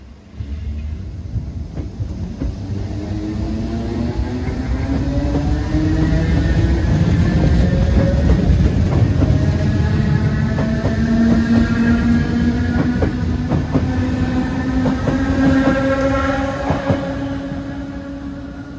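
A train hauled by 8100-series locomotives passes close by on an outdoor line near Dublin, building from a rumble to a loud, sustained roar with rising and falling engine tones, then easing slightly, with no voices.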